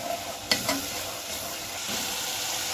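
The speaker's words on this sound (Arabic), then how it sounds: "وابتدي اشوحها وسطيهم" Tomato paste with onions being stirred in hot oil in a pan, steady sizzling with a couple of sharp utensil scrapes near the start, close and continuous, no voices.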